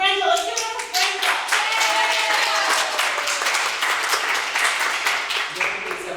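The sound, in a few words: audience applause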